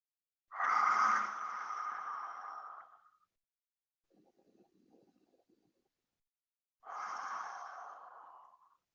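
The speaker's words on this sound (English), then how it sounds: "Inhale deeply and exhale out your mouth." Deep cleansing breaths exhaled through the mouth during a yoga flow: two long, airy, sigh-like exhales, each lasting a couple of seconds, with a quieter inhale between them, close and otherwise silent.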